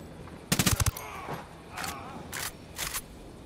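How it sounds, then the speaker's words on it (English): A rapid burst of machine gun fire rattles out in Ghost Recon Wildlands on PC, followed by a few sharper single shots spaced out over the next seconds, with no talking. "I'm shooting these fuckers."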